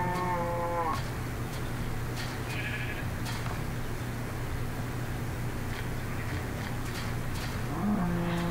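Minecraft cows moo in the video game, one drawn-out call at the start and another brief one near the end, heard over constant game background music with no talking.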